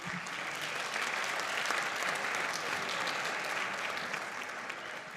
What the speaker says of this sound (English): So a round of applause for all of our teachers, please.